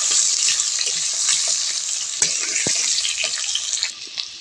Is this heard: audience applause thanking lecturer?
no